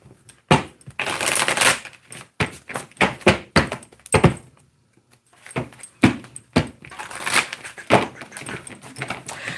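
Tarot cards shuffled by hand at close range in repeated riffling bursts with sharp taps and pauses between, fairly loud and alone.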